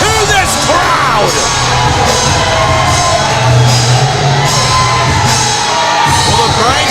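Wrestling event crowd at a SmackDown show roaring continuously, with cheers, yells and whoops rising and falling in a dense, loud wall of arena noise, with some voices amid the din.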